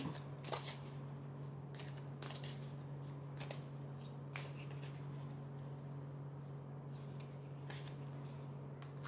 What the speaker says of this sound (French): je vais prendre une carte de l'oracle des elfes pour avoir le message pour ce week-end